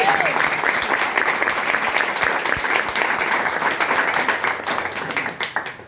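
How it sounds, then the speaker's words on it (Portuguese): A church congregation at a seminar service claps loudly and continuously, with a dense burst of applause that fades slightly toward the end. "Aqui no Aleluia, aplauda isso"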